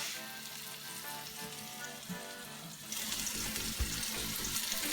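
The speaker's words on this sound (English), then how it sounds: "Right here, I'm gonna cook the zucchini and put it in the same pan." Sliced zucchini sizzling in a frying pan, a continuous crackling fry that grows louder and brighter partway through, with faint clinks of stirring and no talk.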